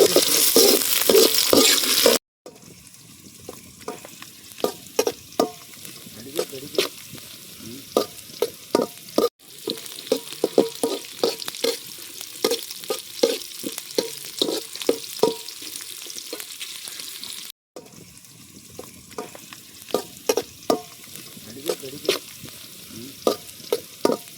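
Tomatoes go into a pan of sizzling pepper chicken cooking outdoors, and a loud, steady frying hiss runs under repeated scraping and stirring strokes. The sound carries on with brief cuts, and no one speaks.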